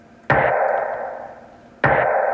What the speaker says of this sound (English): this sort of reverb, kind of atmospheric sounding snare clap thing